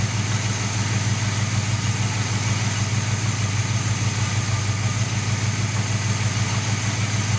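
A 1978 Chevy C-10 engine idling steadily during carburetor tuning, a continuous even low rumble with a regular pulsing beat, no talk.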